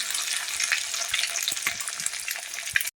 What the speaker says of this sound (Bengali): ডিমটা আমি এর সঙ্গে দিয়ে নিয়ে সেটা সুন্দর করে ভেজে নেবো